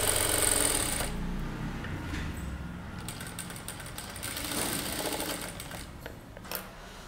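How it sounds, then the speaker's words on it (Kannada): A sewing machine stitches along a fused neckline edge in rapid bursts of mechanical clatter, starting and stopping several times, close and fairly quiet. "ಸೊ ಹಿಂಗೆ ಎಡ್ಜಲ್ಲಿ ಸ್ಟಿಚ್ ಮಾಡ್ಕೊಳ್ಳಿ."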